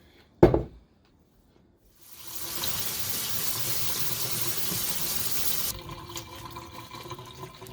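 Tap water runs steadily over pickles being rinsed in a sink, a broadband gushing rush that stays level for a few seconds, then shifts to a lighter trickle near the end, with a sharp knock at the start and a short pause before.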